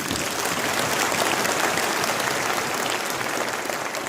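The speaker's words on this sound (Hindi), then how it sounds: "ये ताली आपने मेरे लिए बजाई है या जाति की विदाई में बजी है?" Sustained audience applause fills the hall at a public speech against caste discrimination, dense and steady clapping throughout with no pauses.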